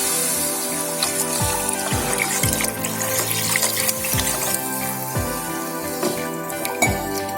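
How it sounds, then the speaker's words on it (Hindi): Water is poured into frying masala in a pan to make gravy, a steady close splashing and trickling with soft clinks through the pour. "मैं इसमें 2 गिलास पानी ऐड करूँगी।"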